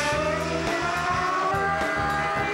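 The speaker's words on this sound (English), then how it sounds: "Australian Formula One driver Mark Webber was given the chance to act out every Sydney commuter's dream, the Sydney Harbour Bridge to himself" A Formula One car drives across the Sydney Harbour Bridge, its loud, high-revving engine whine rising and dropping in quick repeated gear shifts, close and continuous.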